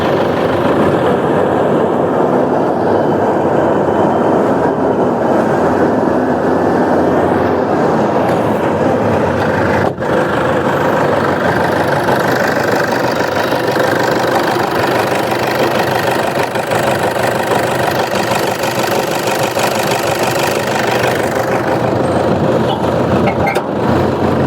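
A vehicle engine running steadily and loudly close by, a continuous rumbling drone with a faint knocking texture, holding level throughout with one brief click partway and again near the end.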